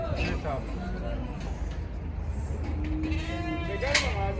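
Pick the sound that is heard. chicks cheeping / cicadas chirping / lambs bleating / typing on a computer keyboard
lambs bleating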